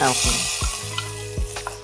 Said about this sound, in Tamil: ஆஃப் பண்ணிவிட்டு தாளிச்சதை அதில் சேர்த்துற போகிறோம்